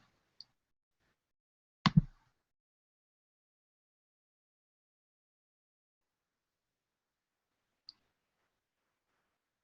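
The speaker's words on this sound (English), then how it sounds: "So I'm going to click on it to open it." A single computer mouse click sounds once in a quiet room, near and sharp, with faint ticks before and after it.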